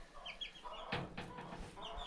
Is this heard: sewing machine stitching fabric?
no